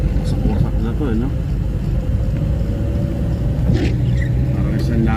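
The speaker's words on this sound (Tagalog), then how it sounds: "Yan yung mga motor dito." Motorcycles and tricycles pass along a busy street in Alabang, their engines a continuous low rumble of traffic, with voices talking over the noise.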